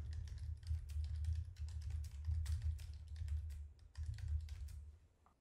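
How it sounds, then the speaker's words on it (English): A computer keyboard clatters with quick, continuous typing for several seconds, close and fairly loud, with brief pauses before the keystrokes trail off at the end. "For this one, I'll type, this task shuts down my computer every day at the same time."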